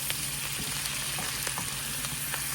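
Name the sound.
stir fry with garlic sizzling in pan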